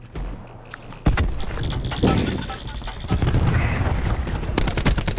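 Rapid gunfire from Call of Duty Black Ops 4 in Domination mode on the Frequency map, with a run of sharp close shots followed by sustained loud bursts and dense battle noise.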